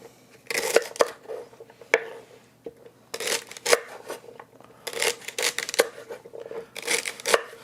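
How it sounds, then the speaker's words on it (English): Bursts of quick crisp cutting strokes as celery is chopped on a board, in short clustered runs separated by brief pauses, close by and with no voices. "The key to chopping celery is keep your fingers out of the way"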